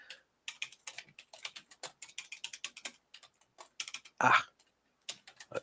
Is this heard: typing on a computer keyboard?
yes